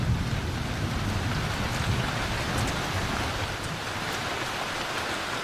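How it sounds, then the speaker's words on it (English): Heavy rain pours steadily in Sabah, a dense, continuous hiss of drops on surfaces with a low rumble beneath, loud and unbroken throughout with no voices. "When rain comes to Sabah, it comes hard and without warning."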